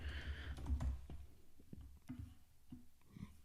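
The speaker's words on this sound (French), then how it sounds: "option G sur ton clavier, entrée de ton clavier" Computer keyboard keys are pressed in a short sequence of light, close clicks with uneven spacing, following a brief stretch of soft background noise.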